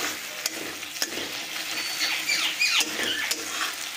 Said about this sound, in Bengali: মশলাটাকে আমরা খুব ভালোভাবে নাড়াচাড়া করে ভেজে নেব।